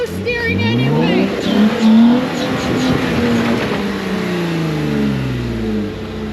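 Off-road vehicle engine revving hard and straining while climbing a slick winch hill, loud and continuous with rising and falling pitch, and people shouting over it.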